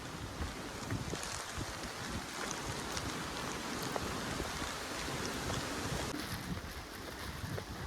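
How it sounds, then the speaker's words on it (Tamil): Strong wind sweeps across the Munnar hills before rain, a steady, roaring rush with gusty microphone buffeting that lasts throughout, with no one speaking. "காற்று பார்த்திங்களா எப்படி அடிக்குன்னு."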